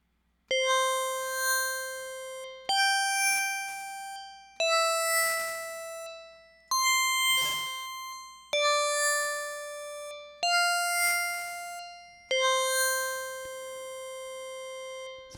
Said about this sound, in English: It's kind of a nice plucky bell sound.